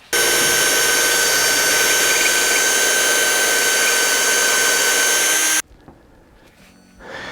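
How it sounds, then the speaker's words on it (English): A drill bores through a guitar body near the pickup pocket, with a short length of aluminum tubing guarding the wood; a loud, steady whine runs for about five and a half seconds, then cuts off abruptly, leaving faint handling noises. "I'll use a short length of aluminum tubing to protect the body as I'm drilling"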